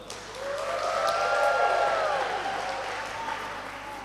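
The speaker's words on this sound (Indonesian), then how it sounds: "Tepuk tangan untuk Bahrul." Applause from an audience at a university student council inauguration, a dense steady clapping crowd that swells and fades, with a tonal whine or feedback sweeping over it.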